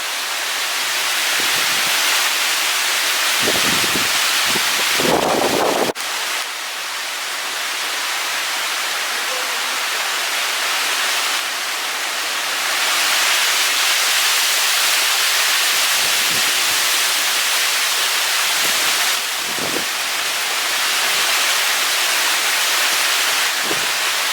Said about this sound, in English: Another band of wind and rain coming through again.